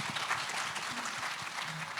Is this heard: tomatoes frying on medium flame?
no